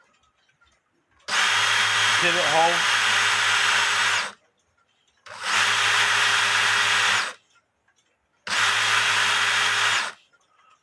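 A power drill whirs loudly and close in three steady bursts, each about two to three seconds long with short pauses between, while the pivot hole of an 1880 cuckoo clock with wooden plates is cleaned. A brief spoken phrase sits over the first burst.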